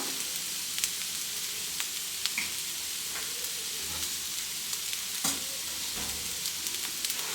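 Chicken filling frying in a pan sizzles steadily while a spoon stirs it, giving intermittent scraping clicks over the constant hiss of hot oil, close up with no talking.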